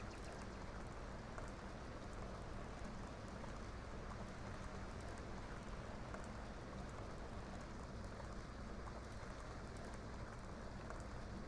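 Steady rain pours down in The Sims 2 game, a soft, continuous hiss of falling drops that stays even and faint throughout, with no voices.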